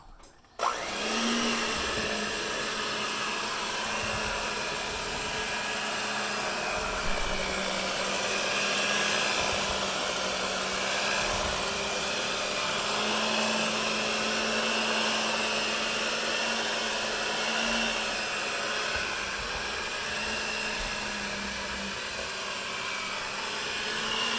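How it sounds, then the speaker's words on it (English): A blender runs continuously at high speed, a loud steady whirring drone that persists evenly throughout with no talking, mixing brownie batter. "now I'm gonna move on to finish it off with the blender"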